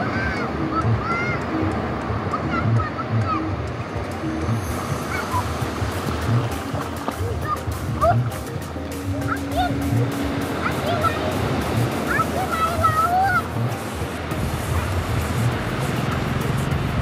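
Waves break on the quiet, black-sand beach at Pantai Adem in Anyer, a steady soft wash of surf heard from a moderate distance, with faint bird calls and distant traffic in the background.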